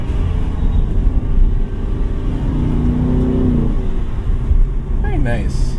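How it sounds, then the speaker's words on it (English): A Ford Mustang GT engine downshifting while driving on city streets, a loud steady interior drone with rising and falling engine tones and a quick revving blip near the end. "Quick shifting through the paddle shifters, and there's a nice pop to it."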